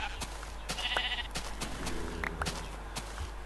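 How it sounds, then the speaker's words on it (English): Sheep bleating in the video game Minecraft, a couple of short bleats over steady background sound with scattered clicks. "I just want to get these last few sheep."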